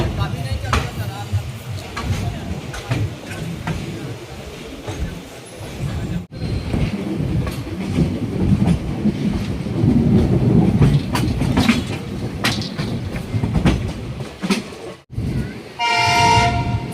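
Garudadri Express, hauled by a WAP-4 electric locomotive, rolls out of Chennai Central with a steady low rumble of moving coaches and track noise, a brief horn-like tone near the end, and a crowded carriage murmuring throughout.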